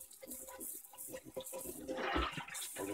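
Water runs and splashes in a sink as debris is washed off a cast-iron pan, a quiet, choppy rinse that swells into a stronger gush near the end.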